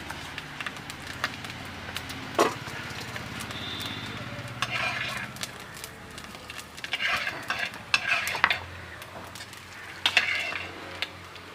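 Chicken curry being stirred in a pan, with scattered scraping and clinking of a spoon against the metal and a soft background sizzle, moderately close and fairly quiet.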